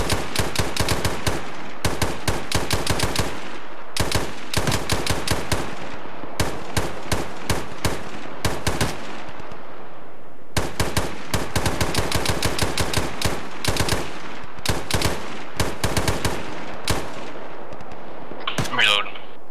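A machine gun fires suppressing bursts in the video game Arma 3, with loud, rapid, sharp shots in repeated bursts separated by short pauses, near and dominant throughout.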